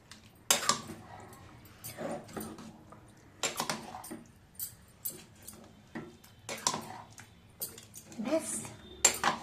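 A spoon or ladle stirring dum aloo, a potato curry, in a metal pot, with gentle scrapes and clinks that come in short irregular bursts and quiet gaps.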